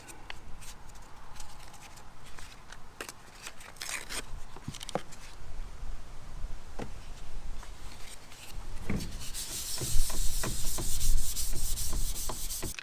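Sandpaper is rubbed by hand over a plastic car grill ahead of a base coat, a close, continuous scratchy rasping with irregular strokes and occasional knocks.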